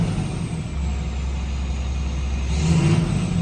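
A 2007 GMC C6500 service truck with an enclosed utility body runs steadily, a low continuous engine drone with a slight rise near the end, heard alone without talk.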